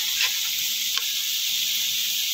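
Plain yogurt spooned into browning masala with finely chopped tomato for a besan and onion sabzi, giving a steady soft hiss and sizzle, with a faint brief clink near the start.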